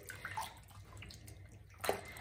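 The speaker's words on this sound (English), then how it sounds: "So I'm going to leave it there and just mush it around a little bit." A shammy cloth soaks in water and is mushed around by hand, giving quiet sloshing and squishing with a brief louder splash near the end, close and faint with no talking.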